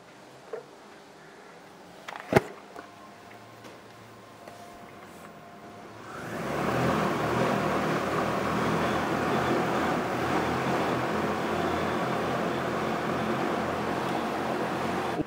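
A 100 kg heavy-lift drone, fitted with a new flight controller, new batteries and a repaired propeller, spins up after a few faint clicks. It settles into a loud, steady broadband roar of rotors and wind as it lifts off and hovers.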